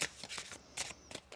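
A deck of tarot cards being shuffled close up, several quick riffling bursts in a short irregular rhythm, quiet and alone without talk.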